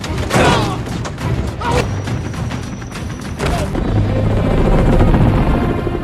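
Loud helicopter rotor thumping with heavy mechanical roar and booming impacts, like a dramatic action scene soundtrack.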